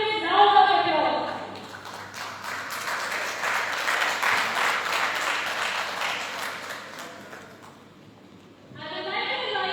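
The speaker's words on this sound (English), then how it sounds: "give them a grand, thunderous round of applause" An audience at an International Women's Day school event applauds guests invited to the stage, a broad burst of clapping that swells between stretches of amplified speech at the start and end.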